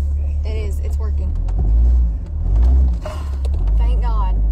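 A car engine runs with a loud, low idling rumble that swells and dips, while frightened voices talk and exclaim over it.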